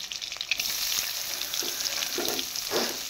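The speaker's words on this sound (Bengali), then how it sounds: "তো পেঁয়াজটাকে আমি একটু হালকা ভেজে নেব।" Chopped onions with slit green chillies and a little sugar fry in hot oil in a wok, a bright close sizzle with a few scraping stirs toward the end.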